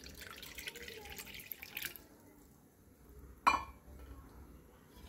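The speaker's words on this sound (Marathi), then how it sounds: "त्यासाठी आपण साईडवर एक ग्लास पाणी टाकत आहे।" A glass of water is poured into a cooking pot in a home kitchen: a soft, quiet pour over the first two seconds, then a single sharp glassy clink, with no talk.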